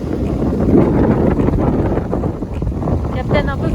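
Steady wind roars across a sailboat on the Atlantic coast between A Coruña and Póvoa de Varzim, blowing about 14 to 15 knots with gusts to 18. The gusting rush stays loud and close throughout, with water and hull noise underneath.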